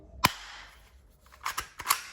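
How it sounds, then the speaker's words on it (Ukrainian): Three sharp cracks from a metal toy Colt pistol: one loud shot, then after a pause two more in quick succession, close by with no talking. "Звук пострілу."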